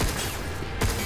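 Rapid gunfire bursts from the sci-fi action video game Pragmata, dense and loud through the whole short moment, with a sharper shot near the end.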